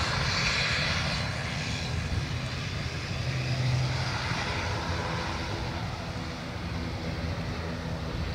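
An ATR turboprop airliner arriving from Edinburgh on approach to runway 28 left at Dublin Airport, its engine drone a broad steady roar heard from a distance, rising slightly at the start and then holding constant throughout.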